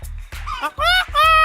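A voice imitates a rooster crowing, rising and stretching into a long strained call, with a rhythmic low thumping underneath.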